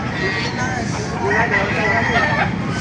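Several roosters crow and chickens cluck together in a busy, noisy chorus, close by, with a continuous bustle of a chicken market in Baliuag, Bulacan, Philippines.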